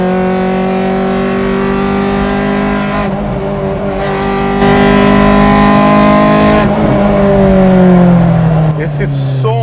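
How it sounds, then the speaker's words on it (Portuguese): A Honda Civic's B16 VTEC engine revs hard several times, climbing to high-pitched screams and dropping back, loud and close, with the rising harmonics of each pull clearly audible. "Vamos ouvir o VTEC um pouquinho."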